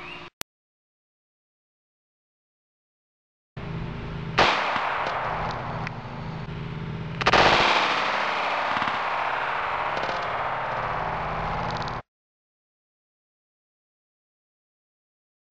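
Shots from a Taurus PT-845 pistol firing .45 ACP Fiocchi 230-grain JHP rounds into a denim target, heard as loud sharp reports with a long rumbling tail, then a second louder blast outdoors, no talk.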